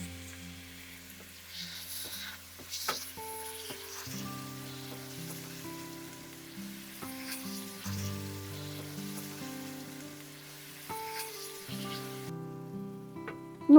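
Cooking oil sizzles softly in a pan for a traditional Albanian turkey përshesh, a steady, faint crackle running beneath gentle background music.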